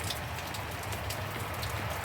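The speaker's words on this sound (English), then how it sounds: "it is raining." Rain falls steadily outdoors, a continuous close patter of drops with scattered louder splashes over two seconds. No speech is heard.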